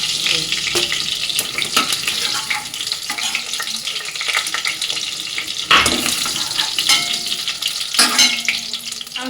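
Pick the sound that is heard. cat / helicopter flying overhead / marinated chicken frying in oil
marinated chicken frying in oil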